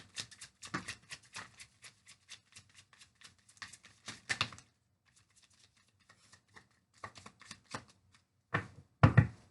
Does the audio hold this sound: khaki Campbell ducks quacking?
no